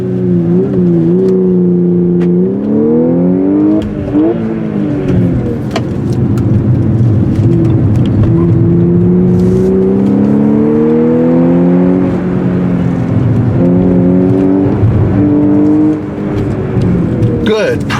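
2014 Audi S4 Quattro engine accelerating on a racetrack, loud in-cabin engine note climbing repeatedly through the gears with rising whine-like harmonics, a person talking intermittently over it.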